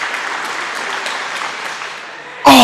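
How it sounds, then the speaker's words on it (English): A crowd at an indoor track meet claps steadily for an athlete who has tied a record, a dense, even patter of applause that ends in a sudden loud burst. "Everybody's clapping for him."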